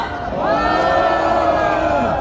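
Crowd at an outdoor political rally in Seoul cheering loudly to welcome a speaker, a sustained swelling roar of many voices.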